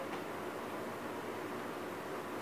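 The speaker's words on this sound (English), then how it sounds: "It's a fan!" Steady, even broadband hiss of an electric fan running in the background, constant and unbroken for the whole stretch with no other sounds.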